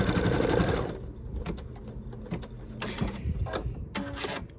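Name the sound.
embroidery sewing machine stitching a towel design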